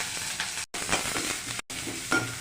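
Ginger and onion frying in a pan, a close, steady sizzle with stirring that cuts out twice for a moment.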